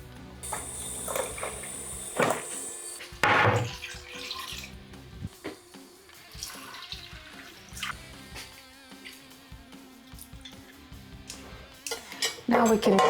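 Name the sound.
water being added to seasonings in a cooking pot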